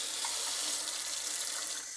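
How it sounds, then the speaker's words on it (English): Cold water runs steadily from a tap into a sink while popcorn is being prepared for mushroom inoculation, a continuous close hiss and splash with no talking. "So I like to run some water with the cold water"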